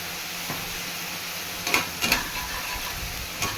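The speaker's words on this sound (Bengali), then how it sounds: "খুব বেশি ভাজবো না একটু লাল লালভাবে উঠিয়ে রাখবো" Small shrimp fry in a wok with a steady, close sizzle, and a few sharp scraping stirs cut in around the middle and near the end.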